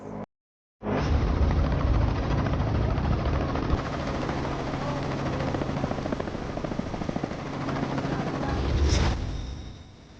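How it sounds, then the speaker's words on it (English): Helicopters' heavy rotor thrum and engine roar build after a brief silence, steady and loud, swelling slightly toward the end as they draw nearer in the African bush. "As soon as we hear the choppers approach"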